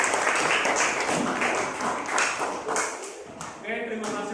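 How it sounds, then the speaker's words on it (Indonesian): A classroom of students clapping for a student group after a presentation, a moderate, uneven patter of hands lasting a few seconds, with some voices mixed in toward the end. "Berikan tepuk tangan untuk kelompok."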